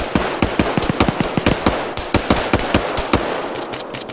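Rapid automatic gunfire from the Arma 3 military shooter game rattles out in close, loud bursts of sharp cracks, a steady stream of shots with only brief gaps.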